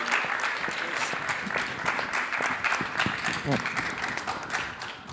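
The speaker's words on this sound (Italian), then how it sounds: "Un applauso al loro prima, primo viaggio in Europa" A crowd at a public talk on the global water crisis applauds visiting guests on their first trip to Europe, a continuous wash of clapping running under a speaking voice.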